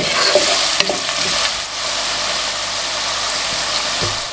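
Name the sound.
vegetables cooking in a pan, stirred occasionally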